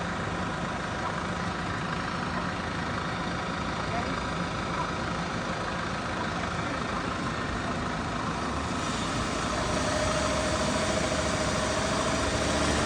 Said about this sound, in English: find an old farmer with a tractor who knows how to pull and push big machines around